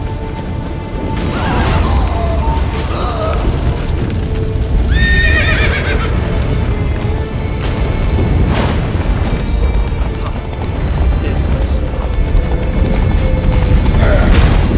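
A horse whinnies and hooves clip-clop at a gallop amid loud rumbling game effects in The Witcher 3, with no talking.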